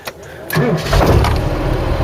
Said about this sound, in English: Listen to that. Nothing wrong with that engine.